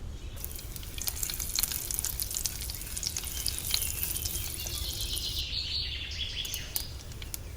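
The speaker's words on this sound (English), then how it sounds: "When the oil is ready, we're gonna add asafoetida powder, mustard seed," Asafoetida powder and mustard seeds sizzle in hot oil while cooking a hog plum (ambade) curry, a steady close crackle with sharp popping spatters throughout and no voices.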